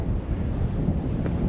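Strong wind buffets a hilltop overlooking the Missouri Valley in cold western Iowa winter, a loud steady rumbling roar of wind across the microphone with no talking.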